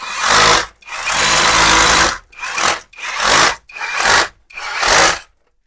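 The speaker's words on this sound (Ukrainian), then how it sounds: "Досверлюємо, зараз буде виліт." A Grosser GRH 260 DFR cordless rotary hammer bores through a brick wall in six loud, close bursts of grinding hammering, one long and several short, with brief silences between them and a final stop.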